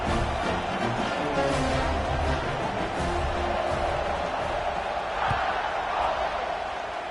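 Stadium crowd at a video game football match, a dense, continuous roar of cheering and chatter that stays loud and even throughout.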